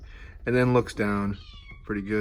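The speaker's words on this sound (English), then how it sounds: "You can hear my cat in the background." A pet cat meows several times in the background, its calls rising clearly between and over a man's nearby speech.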